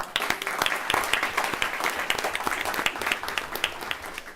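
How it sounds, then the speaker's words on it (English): Applause from a school board meeting audience honoring students, a moderately sized group clapping steadily for a few seconds at moderate distance, scattered individual claps audible within the wash. "So let's give them a round of applause."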